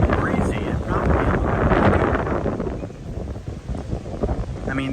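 Breezy wind on a beach at Kiawah Island, South Carolina, loud rumbling gusts buffeting close, fading slightly toward the end, with a voice talking underneath.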